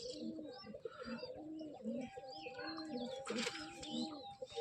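A pigeon coos in repeated low, throaty phrases at close range, with faint chirps and other bird sounds mixed in behind it.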